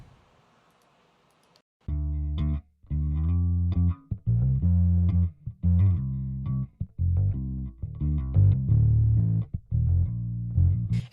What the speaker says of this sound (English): I'm going to take my stock DigiDesign Lo-Fi, which is one of my favorite little in-the-box distortions. I'm going to crank the saturation.